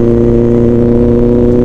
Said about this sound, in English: Engine is so refined, I tell you. Engine is so refined. Throttle is very responsive.